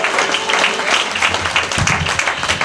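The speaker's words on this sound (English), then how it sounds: "Can we give our actors a huge round of applause?" After a murder-mystery play called Murder at Mardi Gras ends, the audience gives the actors loud, close applause, dense clapping that holds steady throughout.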